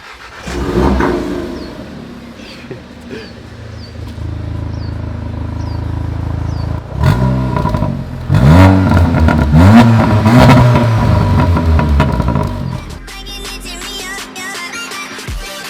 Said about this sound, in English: This one is loud exhaust.